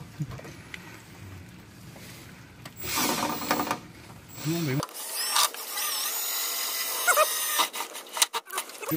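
Power drill whirring in bursts as it drives screws into a gutter downspout outdoors, close and loud, with a person talking intermittently over the work.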